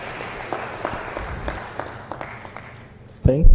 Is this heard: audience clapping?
yes